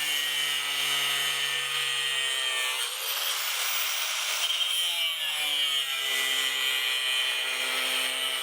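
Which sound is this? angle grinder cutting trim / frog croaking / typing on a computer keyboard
angle grinder cutting trim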